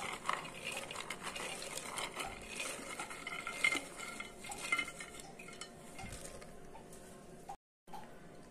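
Soaked cowpeas tipped into a cooking pot and stirred for sweet Navaratri sundal, with steady scraping and clinking of a spoon against the metal pot, close and continuous, ending in a brief silent gap.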